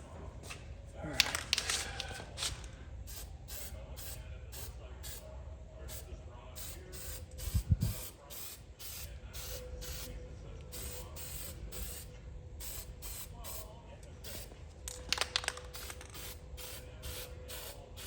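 Short repeated hissing bursts from spray coating being applied to a 1978 Corvette steering column, quick rhythmic puffs throughout at close range, with a few faint knocks in between.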